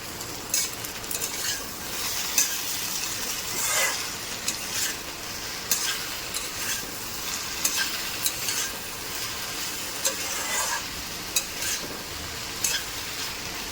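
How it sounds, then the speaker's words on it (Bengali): Potatoes, onion and capsicum fry in a home kitchen pan, a steady close sizzle broken by scattered sharp clicks and scrapes of stirring, with no voices. "এখানে হচ্ছে আলু দিয়ে, পেঁয়াজ দিয়ে, ক্যাপসিকাম দিয়ে ভাজা"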